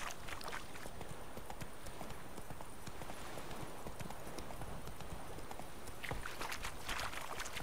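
Hooves of a horse galloping in The Witcher 3, a steady fast clip-clop rhythm running continuously, close and loud, with game ambience behind and no talk.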